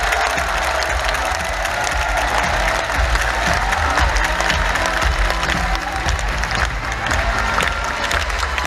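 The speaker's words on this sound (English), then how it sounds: "give them a big round of applause." Large corporate convention crowd applauding and cheering as a group stands for recognition, a loud, dense and continuous roar of clapping with whoops and crowd noise throughout.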